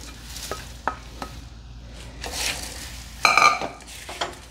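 A spoon scrapes and tosses thin poha chivada coated in spices around a pan, making irregular dry clinks and rustling strokes, with one sharper metallic scrape midway. The sound is moderately close and carries no talk.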